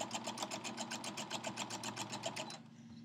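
A sewing machine chain-pieces quilt pieces with a quarter-inch seam, running close and steady with an even stitching rhythm, then stopping abruptly near the end.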